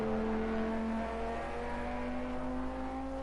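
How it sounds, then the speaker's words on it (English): Lamborghini race car in Project Cars 2 at Watkins Glen, its engine screaming at high revs with steady rising harmonic tones, close and continuous throughout, no talking. "I love that Lamborghini, man. That thing's screaming"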